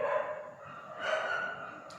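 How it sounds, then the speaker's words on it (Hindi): Dogs barking outdoors, heard indoors as a muffled, distant yelping with a couple of rising calls over about two seconds, faint against a quiet room. "डॉगी भौंक रहे हैं बाहर"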